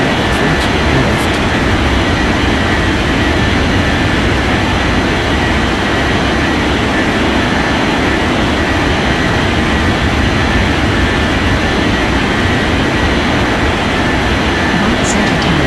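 In an air traffic control game, an airliner's jet engines roar steadily and loudly as it takes off, a continuous dense rush that holds for the whole stretch.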